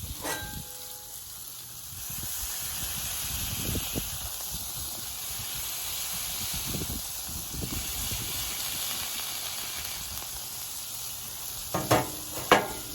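Bacon sizzles steadily in a pan, a constant bright hiss that holds at even loudness throughout, with a couple of brief knocks near the end.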